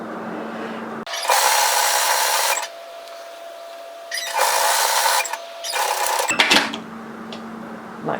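Sewing machine stitching a seam on a knit teddy jacket, running in three separate bursts of steady whirring with short pauses between them, fairly close and moderately loud.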